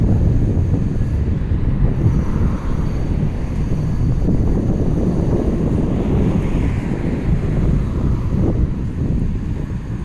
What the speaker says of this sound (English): it's a little bit windier right here